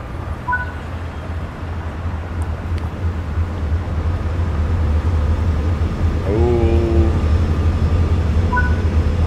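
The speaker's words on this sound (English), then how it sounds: "Can you hear the locomotive sound?" Diesel locomotive engine in Train Sim World 4 on the Antelope Valley route, a steady low rumble that gradually builds, with a brief horn-like tonal blast partway through and no talking.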